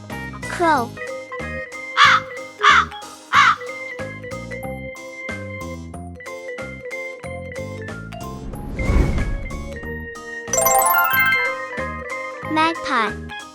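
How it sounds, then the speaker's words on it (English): A crow caws several times in short harsh bursts over a bright, tinkling musical jingle that carries on between the calls. "Crow."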